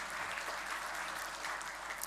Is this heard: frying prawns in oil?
no